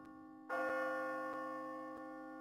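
A single bell strikes in the video game Catherine, a clear resonant tone that rings on and slowly fades, fairly quiet, with faint ticking pulses under the decay.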